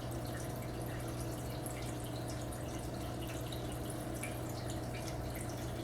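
Water streaming out of an ATI aquarium sponge filter in a fish tank, a steady close bubbling trickle with fine droplet patter over a constant low hum, unbroken and without speech.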